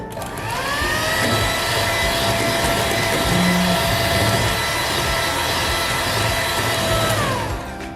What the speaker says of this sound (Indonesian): Dan di mixer lagi sampai benar-benar kaku.